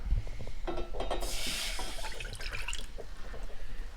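Water poured from a container into a cooking pot with apricots, a splashing, gurgling stream that swells loud in the middle and trickles off toward the end, close and alone without talk.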